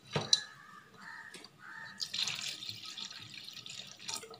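A litre of water poured into a pot of chicken, whole spices, onion, garlic, ginger and green chilli for clear chicken soup; a few clinks and trickles lead into a steady close gush of pouring water.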